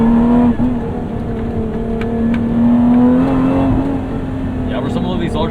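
Modified 2024 Lotus Emira accelerating hard, a loud steady engine drone climbing gradually in pitch with a brief dip as it shifts, close and continuous beneath someone talking.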